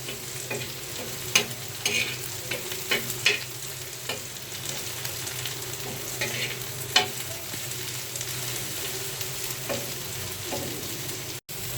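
Onions fry in a pan with salt, giving a continuous close sizzle, with scattered scraping stirs and small pops spread through.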